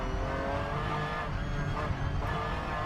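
A GT3 race car at Oschersleben, during a 2009 FIA GT3 race, heads into the pit lane: a steady, loud engine drone with tyre noise and a background roar, continuous with no clear voices.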